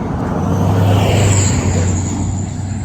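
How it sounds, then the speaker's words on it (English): Large vehicles roll past on a road beside a walker, a steady loud rumbling roar of traffic that swells and eases slightly across the few seconds, with no talk. "there's large cars going by making noise"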